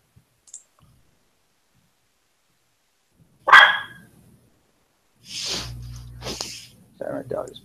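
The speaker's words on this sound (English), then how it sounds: "Sorry, my dog is barking." A single sharp bark close by, followed by muffled voices and movement with a low rumble.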